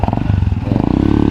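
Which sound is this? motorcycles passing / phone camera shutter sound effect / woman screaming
motorcycles passing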